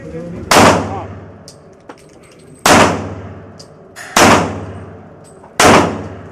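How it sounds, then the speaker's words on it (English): Four sharp 9mm pistol shots ring out at an outdoor shooting range, spaced roughly a second and a half apart, each loud crack trailing off into a brief decaying echo. "Yeah, I'm gonna shoot my 9mm at it."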